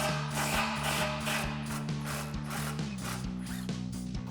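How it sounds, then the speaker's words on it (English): A 15mm socket on an impact wrench loosens the exhaust slip joint clamps of a 2005-2007 Corvette, giving a steady mechanical hum laced with rapid, evenly spaced rattling hammer clicks close by. "we're going to loosen those up with our 15mm socket on our impact"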